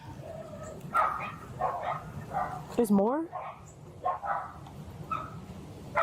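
A dog yips and barks in short bursts close by while people talk loudly over it indoors during a tense family scene.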